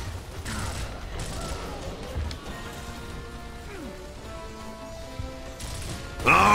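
Continuous crackling gunfire and rattling weapon noise in a Gears of War video game night-drive battle, dense and steady throughout with a louder burst at the end.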